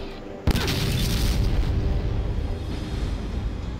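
A weapon shot hitting a hoverbot in the video game Fallout Tactics, a sudden loud boom followed by a long rumbling, noisy tail.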